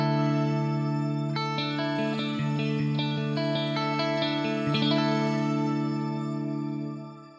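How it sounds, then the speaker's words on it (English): Guitar played through the stock shimmer setting of a Boss RV-500 reverb pedal: a run of picked notes over a sustained chord, blooming into a lush, octave-up wash that rings on and slowly fades, with no voices. "This is just the stock shimmer setting."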